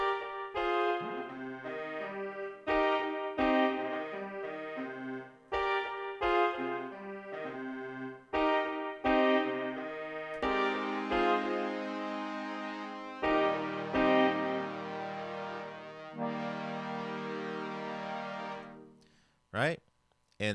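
Spitfire LABS organ plays layered sustained chords, first in short detached stabs and then in longer held chords with a deep bass underneath. The sound is full and close and ends in a brief fade.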